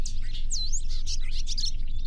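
Birds chirping in short, bright, repeated tweets against a steady low background rumble, several calls overlapping in quick succession.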